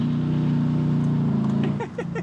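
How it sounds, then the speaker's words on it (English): Camaro SS with a manual transmission and bald tires doing a burnout, a loud steady engine drone with tire roar that breaks into chirps near the end. "This thing has bald tires, so it'll just burn out at will, even at like 1500 RPM."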